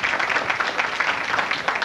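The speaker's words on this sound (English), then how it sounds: "a great big round of applause" Studio audience on a 1985 game show applauding in a short, busy burst of many hands clapping together.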